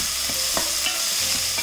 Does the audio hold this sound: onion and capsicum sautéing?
yes